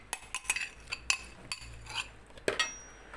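A spoon works through yogurt in a bowl while mixing chana chaat, giving a run of close, irregular clinks and scrapes against the dish, several sharp taps spaced through the stretch with no talking.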